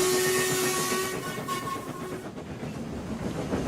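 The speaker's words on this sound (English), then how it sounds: "the driver replied with a smirk, and then laid on the whistle chain once more" Steam locomotive whistle blown by pulling the chain, a loud sustained tone lasting about two seconds over rumbling rail and hissing steam, then fading into the train's running noise.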